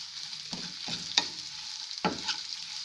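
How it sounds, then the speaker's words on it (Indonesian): A burger-bun filling sautéed briefly in a pan, a soft sizzle broken by a few sharp spatula scrapes and taps, fairly quiet and close, no talking. "Ini saya tumis sebentar aja supaya layu."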